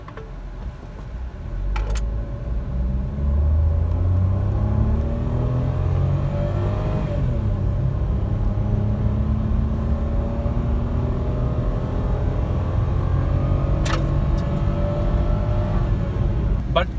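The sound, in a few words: Kia Picanto car accelerating, engine struggling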